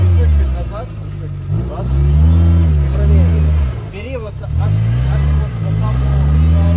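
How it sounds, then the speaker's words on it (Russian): A Suzuki Samurai off-roader stuck in a swamp revs repeatedly with the throttle floored, loud rising and falling engine surges in several waves, close by, with people shouting and talking throughout. "Разгазуй, газ в пол."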